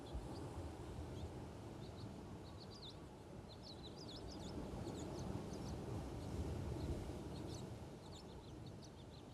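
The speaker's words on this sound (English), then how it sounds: "You hear the waves" Ocean waves wash in a faint, steady roar that swells gently, while birds chirp in scattered bursts above it.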